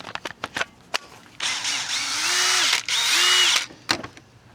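A power drill whirs in two sustained bursts, its pitch rising as it spins up, with sharp clicks and knocks before and after.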